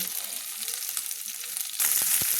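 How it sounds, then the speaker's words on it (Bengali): Small mourola fish frying in oil in a pan and being turned over, a close crackling sizzle that swells louder near the end with a couple of spatula knocks. "উল্টে পাল্টে মাছগুলো ভেজে নিতে হবে সেইভাবে ভেজে নিতে হবে"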